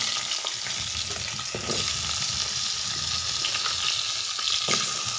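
Cut potatoes and panch phoron spices fry in a hot pan with a steady, dense sizzle throughout, broken by a few soft stirring knocks and scrapes.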